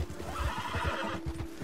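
A horse in a video game gives a whinny over quick rhythmic hoofbeats as it runs, fairly quiet and continuous, with a steady tone running underneath.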